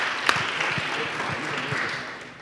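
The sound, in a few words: audience applause for state representatives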